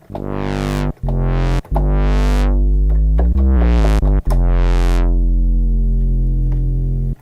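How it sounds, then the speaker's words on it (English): A loud, buzzy synth bass holds notes while a filter sweeps up and down, giving a repeated wah-wah shape with brief gaps between phrases. "the filter makes this wah-wah type of sound"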